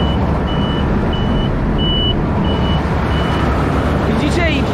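Steady reversing beeps from a Claas Mega 204 combine harvester during a 2022 harvest with a new rapeseed header, repeating at an even pace over a loud, constant machine roar.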